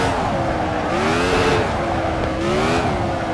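A car driven hard at full throttle, its engine note rising and falling through loud, continuous revving sweeps heard from close, with a faint tire squeal mixed in and no talking.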